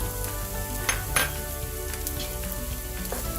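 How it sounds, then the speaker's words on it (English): Chopped onions sauteing in warm oil in a pan, a steady close sizzle and crackle with a few soft stirring scrapes and spoon clinks, no voices. "to that I'm going to add the chopped onions. We're going to saute that down nicely"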